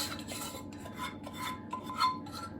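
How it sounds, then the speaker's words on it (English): Spatula scraping melted butter and golden syrup from a pan, a series of quiet rhythmic scrapes and light metallic rubs close by, with no voices. "Don't want to waste any, so I get the spatula out."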